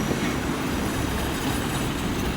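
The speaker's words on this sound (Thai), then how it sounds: "มาแล้วครับ กระบวน 426 ของเรา เข้าสถานีรถไฟสุรินทร์" Local train number 426 pulling into Surin railway station, a loud, dense rumble of wheels and engine close by, steady throughout without talk.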